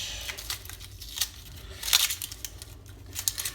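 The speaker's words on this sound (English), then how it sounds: "take the outer layer off of the onion, peel it" An onion's dry outer skin is peeled off for spaghetti bolognese, giving close, crisp crackles and papery tearing in short irregular bursts, with no talking.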